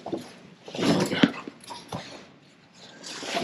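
Dog noises from a dog hanging around an oil and filter change on a Shelby Cobra replica, with a louder burst in the middle and softer sounds before and after, and no talking.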